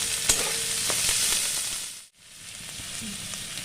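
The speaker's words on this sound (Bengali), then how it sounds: "এবার আমি পেঁয়াজটা লাল করে ভেজে নেওয়ার পর অল্প পরিমাণে জল দিয়ে দেবো" Onions fry in a pan for a small-fish dish, a steady close hissing sizzle with faint stirring clicks that briefly cuts out and then resumes.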